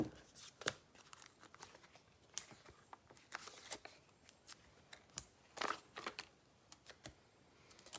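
Scissors snip apart attached foam dimensional adhesives during card making, making soft, sparse, quiet cutting clicks spaced irregularly with a little handling noise.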